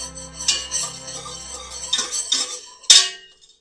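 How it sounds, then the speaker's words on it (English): Whisk clinking against a pot while mixing hot cocoa powder with flour, a few sharp metallic taps and scrapes in an irregular rhythm, close and fairly loud with no talk. "you're going to whisk this all together till the powder, the cocoa, the flour, and everything is all mixed together"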